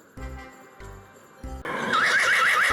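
A horse gives a loud, quavering whinny that fills the second half, following a few short, low tonal thumps.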